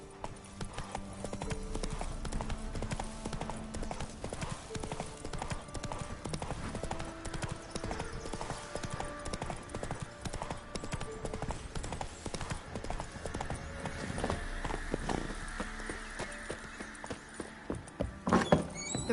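Roach, Geralt's horse in The Witcher 3: Wild Hunt, trotting with a steady, rhythmic clip-clop of hooves close by, joined by game sound effects and occasional spoken lines, with a brief sharp thunk near the end.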